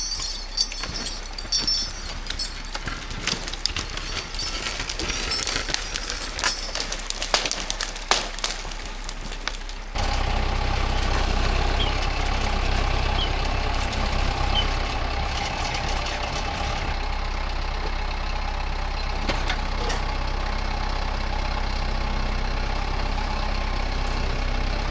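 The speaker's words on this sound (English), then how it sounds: "Position my tractor over there and try to drag it over that tree" A tractor engine idles steadily while dragging a fallen fir along a frozen road, starting with scattered clanks and scraping, then settling into a constant low drone.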